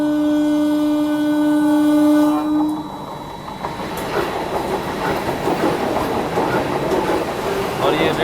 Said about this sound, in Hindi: ये रिटर्न वंदे भारत है, जो कि अपनी बनारस से न्यू दिल्ली जा रही है।